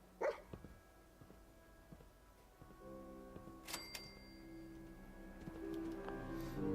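Dogmeat the dog in Fallout 4 gives a few faint, scattered barks and yips at a distance, mixed with quiet game ambience and clicks.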